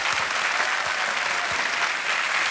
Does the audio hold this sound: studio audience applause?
yes